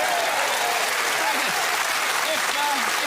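Steady applause from a television studio audience fills the whole stretch, dense and even, with a voice faintly audible beneath the clapping.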